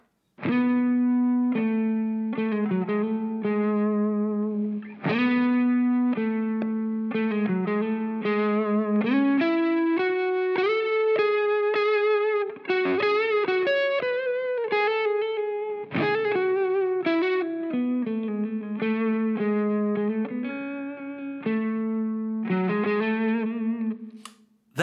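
An electric guitar plays the clean lead tone from a song with the effect switched on, a flowing melodic line of sustained notes with a chorus-like shimmer, steady and close for about twenty-five seconds.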